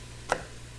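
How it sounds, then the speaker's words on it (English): A single sharp knife chop cuts through an onion on a board in a home kitchen, one brief crisp stroke against quiet background hum. "getting a little teary cutting this onion"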